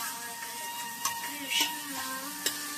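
A spoon stirs a kodo millet and coconut milk rice mixture in a pan, with soft scraping strokes and faint sizzling, a few sharper clinks of utensil on metal, and a hum in the background.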